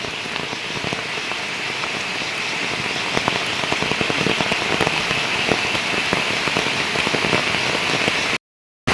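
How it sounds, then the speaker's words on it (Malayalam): Heavy rain drums loudly and continuously on a hard surface, with scattered sharper drop impacts, close by, before cutting off abruptly near the end. "എൻ്റെ പൊന്നെ എന്നൊരു മഴയാണോ"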